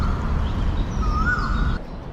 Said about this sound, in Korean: 이 알 수 없는 새소리가 들려요.